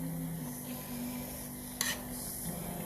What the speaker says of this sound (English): Well, this is my boiling meat.